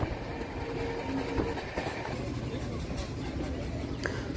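Inside the Kanchankanya Express running at about 90 to 100 km/h, a steady loud rumble of the carriage with rhythmic wheel clatter on the rails, continuous throughout, with voices faintly present.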